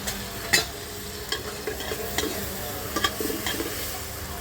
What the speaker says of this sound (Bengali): একটু বেশি করে পেঁয়াজ দিয়ে ভুনা করবো